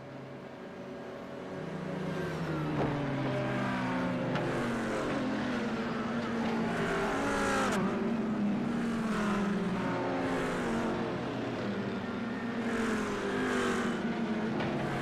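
Race cars lapping the Montreal circuit in the iRacing sim, with engines droning and rising and falling in pitch as they pass and accelerate, a steady loud drone throughout with no talk.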